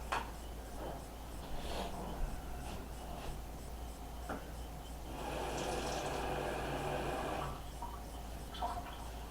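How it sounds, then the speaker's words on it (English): A little water sloshed and shaken inside an opened baked bean can, a rattling liquid swish building to a steady shake near the mic, with sharp clinks of the metal can before and after. "put a little water in there and shake"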